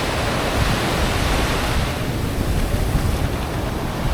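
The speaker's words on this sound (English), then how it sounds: "it's just a pristine beach really" Surf rolling onto a clean, pristine beach in Sri Lanka, a steady broadband wash of breaking waves with wind noise, loud and continuous throughout with no talking.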